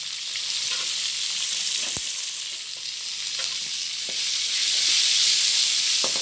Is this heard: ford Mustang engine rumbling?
no